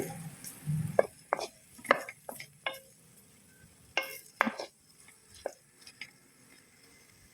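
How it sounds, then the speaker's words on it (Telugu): Onions being chopped into small pieces for Mumbai-style pav bhaji, heard as irregular sharp knife knocks on a board, close and fairly loud, with brief pauses between bursts and no talking. "ఆనియన్స్ చిన్న చిన్న పీసెస్గా కట్ చేసుకోండి"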